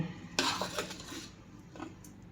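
Lapsi, a traditional sweet, being served onto a plate: a few soft clinks and scrapes of a spoon against dishware, fairly close, with quiet gaps between them and no talking.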